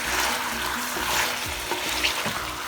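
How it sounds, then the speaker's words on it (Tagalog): Chicken and pineapple sautéing together in a pan give off a steady, bright sizzle with soft stirring scrapes and faint clinks, close and constant throughout. "Now saute them all together."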